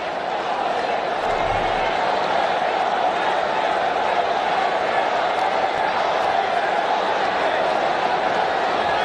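A large, vocal stadium crowd roars steadily through the tense final overs of the Asia Cup 2025 cricket final, a dense, unbroken wall of cheering and noise.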